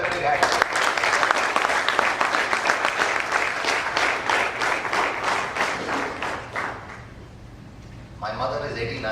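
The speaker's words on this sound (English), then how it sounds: "So let's give them a big hand." An audience at a leadership conference applauds student performers, a loud burst of rhythmic clapping that swells and then fades out before a speaking voice returns near the end.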